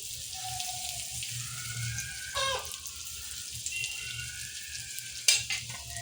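Prawn Russian kebabs frying in hot oil, a quiet steady sizzle with occasional soft stirring clinks and a sharper knock of utensil against pan near the end.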